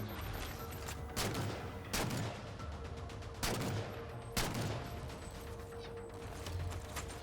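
Gunfire in the Halo Spartan Ops video game, with four or five sharp, spaced shots over a low mechanical hum, fairly quiet and with no voice.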